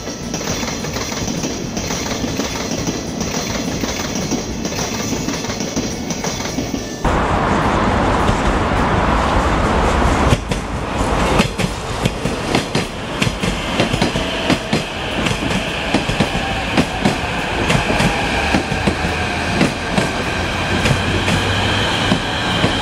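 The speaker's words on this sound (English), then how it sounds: "This is a real metro train." Real subway metro train running on rails, loud and close: a steady rolling roar gives way after a few seconds to a harsher grinding rumble with repeated clicks and clacks of wheels over rail joints, continuous throughout.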